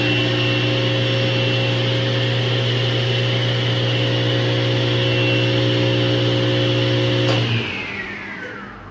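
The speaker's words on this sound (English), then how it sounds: "this is the sound of the saw stop" A SawStop table saw hums loudly at a steady pitch for several seconds, then is switched off and winds down, its tone falling away.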